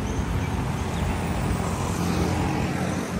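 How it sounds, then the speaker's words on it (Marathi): Steady, loud traffic rumble at a Colombo street bus stop where a number 175 city bus is halted, engine noise and passing vehicles blending into a continuous roar with no voices. "ही आहे कोलंबोमधली 175 नंबरची बस, जी आता बस स्टॉपवरती थांबलेली आहे"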